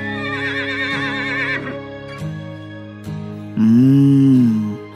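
A horse whinnies in two separate bursts: a high, wavering neigh first, then a louder, lower, drawn-out call, with a faint clop between them.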